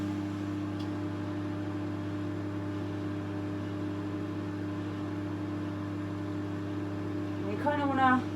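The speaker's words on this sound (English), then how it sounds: "So, in the microwave, 30-second burst, just like chocolate" Microwave oven running while melting marshmallows for Rice Krispie treats, a steady droning hum alone for several seconds, ending with a brief louder rise.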